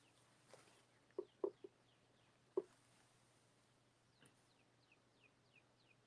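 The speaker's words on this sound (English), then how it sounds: "I love hearing the birds chirp." Birds chirp outdoors, a series of faint high descending chirps alongside a few soft low clucking calls, distant and sparse against a quiet hum.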